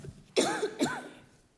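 Two quick coughs, close and clear, during a town select board meeting, with no talk over them.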